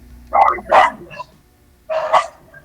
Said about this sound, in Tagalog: Wala na, may mga aso.